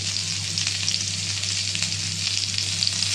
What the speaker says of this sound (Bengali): আলু পটল পেঁপে ভেজে নেব। দেখতে পাচ্ছেন আমার সবজিটা ভালো করে ভাজা হয়ে গেছে।